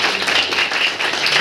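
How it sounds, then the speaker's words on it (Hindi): Audience clapping at a book launch in Lahore, a dense, fairly loud wash of many hands that holds steady with slight swells throughout. "मेरा ख्याल है आप सब लोग भी साइमा के लिए बहुत सी तालियां बजाएंगे।"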